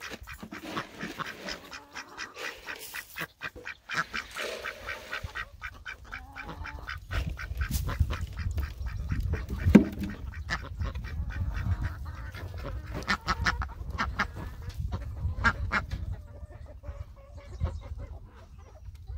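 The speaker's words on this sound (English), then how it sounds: "Let's look at these ducks real quick." Ducks on a farm quack in bursts at close range, loud and busy, with a low rumbling background and handling noises underneath.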